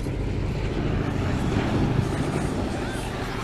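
A B-17G Flying Fortress bomber with its bomb doors open flies past at an air show, its piston engines making a steady, loud, broad roar mixed with wind noise across the whole stretch.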